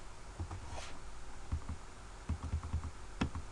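Typing on a computer keyboard to enter an equation into Desmos: scattered soft key clicks in short irregular bursts, close but quiet, with no voice.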